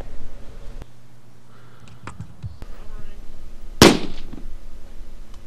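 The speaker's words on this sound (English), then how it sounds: "Noise from the rifle would be physically painful for anyone nearby if they were not using hearing protection." One sharp, loud unsuppressed .308 bolt-action rifle shot cracks out over a steady background hum and faint outdoor noise, followed by a brief fading echo.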